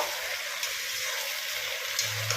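Cumin, coriander, garam masala and turmeric fry in a pan for a Bengali durga chhatu dish, giving a dense, steady sizzle with a couple of faint scrape-like ticks of stirring near the end.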